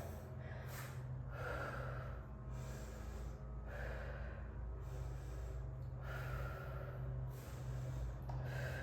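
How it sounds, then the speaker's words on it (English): Deep, slow breathing during an arm-behind-the-head stretch in a workout session, with several long inhales and exhales repeating steadily over a constant low background hum, close and fairly quiet. "Take about 5 deep breaths here."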